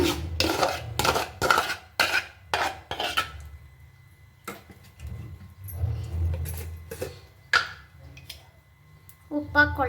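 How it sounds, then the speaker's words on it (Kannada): Ground urad dal batter is stirred into rava in a bowl for idli, the spoon clinking and scraping in short bursts between pauses while someone talks. "ಇವಾಗ ಇದು ರವೆಗೆ ಹಾಕ್ಕೊಂಡು ಉದ್ದಿನಬೇಳೆ ರುಬ್ಬಿರೋದು ಮಿಕ್ಸ್ ಮಾಡ್ಕೊಳ್ಳೋಣ"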